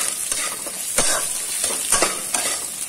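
Spices and salt stirred and fried in a pan, a steady hiss of sizzling oil with repeated scraping strokes of a spoon, close and continuous, no voices.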